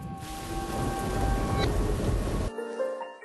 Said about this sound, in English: दूसरी तरफ Toronto international airport पे the thunder storms are already rolling through.